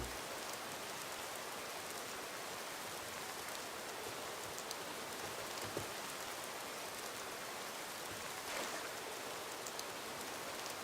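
Steady, dense rainfall in the fantasy role-playing game Gothic 2 forms a soft, even hiss of drops, constant throughout and with no voices over it.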